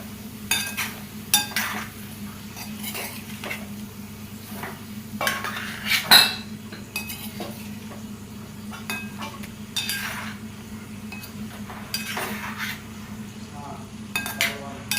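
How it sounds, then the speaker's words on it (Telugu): Spoon clinks and scrapes against a pot as boiled sweet potato pieces are mixed through syrup, with irregular metallic taps over a low steady hum. "ముక్కలకి ఆ సిరప్ బాగా పట్టేలాగా మిక్స్ చేసుకోండి"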